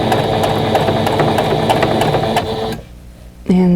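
A sewing machine stitching quilt pieces runs steadily with a fast mechanical whir and needle clatter, stops briefly, then starts up again loud and close.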